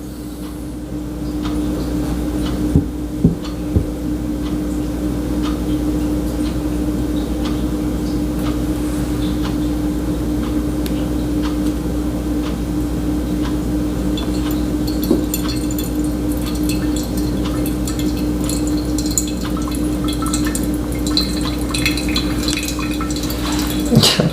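Water streams steadily onto coffee grounds in a V60 pour-over brewer, a continuous soft trickle with a low hum underneath and a few faint clinks, and there is no talking.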